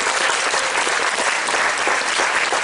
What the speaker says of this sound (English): What do you think about a round of applause for the horticulture staff